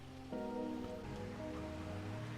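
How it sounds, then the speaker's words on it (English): Steady rain in the Farming Simulator 25 video game, a continuous even patter that holds at moderate loudness throughout, with a low hum underneath. "Apparently it's raining."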